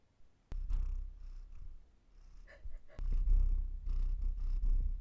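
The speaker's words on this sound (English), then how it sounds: "He's purring though." A small kitten purrs close by in a low, soft rumble that comes in bursts, with quiet gaps and faint breathy sounds between them.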